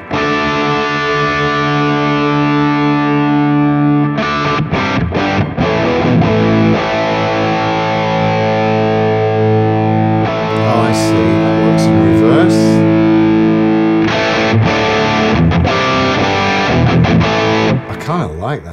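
An electric guitar runs through the distortion effect of a Valeton GP200 multi-effects unit, sustained distorted chords ringing out, then choppy stabs and short bursts, loud and alone without talk.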